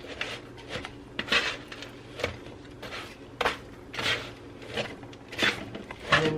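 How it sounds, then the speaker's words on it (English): Homemade granola tossed and stirred in a bowl, giving repeated scraping, clinking strokes at a steady, uneven rhythm, close and moderately loud, with no talking. "let's mix that all up"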